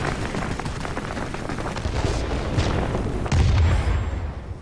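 Aircraft gunfire in a flight combat video game, a dense rattling stream of shots with low booming impacts, steady and loud throughout.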